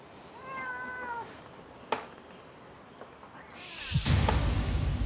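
A rescued cat gives a few drawn-out, tonal meows during an animal emergency rescue, clear and close at first. A sharp knock follows, then a loud rushing noise swells near the end.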